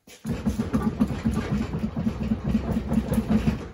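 Steady low rumbling drone with a regular rhythmic thumping from a worn wheel bearing on a Ford Highboy yard truck, close and moderately loud, running continuously without talk.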